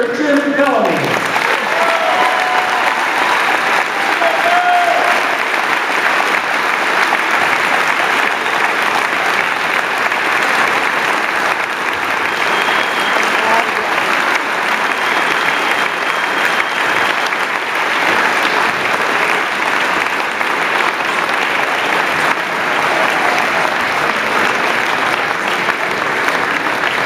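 Sustained, loud applause from an audience at a high school football coaches hall of fame induction in Iowa, dense steady clapping that carries on unbroken for nearly half a minute.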